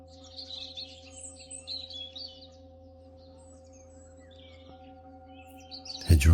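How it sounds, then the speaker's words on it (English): Small hedgerow birds chirp and sing in a spring countryside setting, with scattered high tweets over a steady low hum, then a sudden louder burst of noise at the very end. "Hedgerow birds follow us still."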